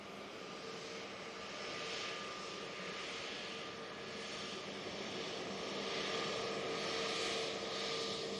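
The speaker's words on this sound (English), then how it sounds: "Anyway, this PC 12 on the roll." A Pilatus PC-12 turboprop on its takeoff roll at Manchester Airport gives a faint, distant, steady engine drone that swells slightly and holds.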